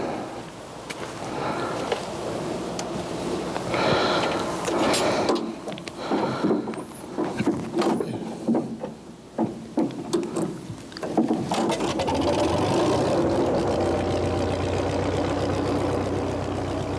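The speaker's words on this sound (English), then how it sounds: "fires up old Bertha, his 1930 McCormick Deering tractor" A heavy 1930 McCormick-Deering tractor engine thumps and clatters amid knocks and mechanical noise, then settles into a steady low chugging run.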